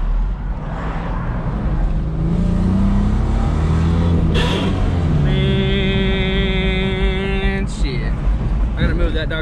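A Ford Mustang engine revs up and climbs in pitch through first, second and third gears, loud and close, with a voice talking over parts of it.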